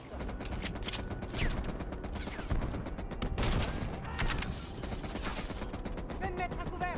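Rapid bursts of gunfire rattle through a Call of Duty Black Ops Cold War mission, dense and continuous with scattered sharper cracks, while a player talks over the shooting.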